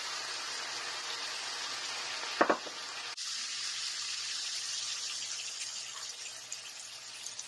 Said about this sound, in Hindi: अब मैं इसमें टमाटर डाल दूंगी जो मैंने बारीक कटे हुए काट के रखे थे।